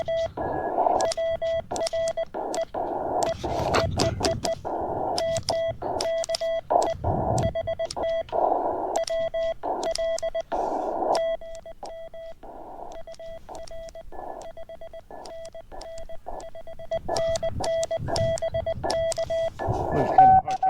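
Steady Morse code sidetone beeps from an MTR-3B V4 QRP radio during a portable CW activation, in bursts of short and long tones, with a few noisy crackles and brief pauses between groups.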